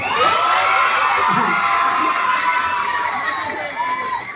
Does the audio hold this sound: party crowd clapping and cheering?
yes